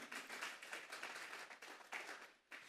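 A church congregation at a Sunday service claps together in sustained, fairly faint applause that swells and dips briefly.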